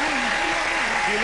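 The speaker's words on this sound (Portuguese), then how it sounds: "Muitas palmas para o Fortioli." A television studio audience claps throughout a telethon closing on stage, the applause dense and continuous while a host speaks over it.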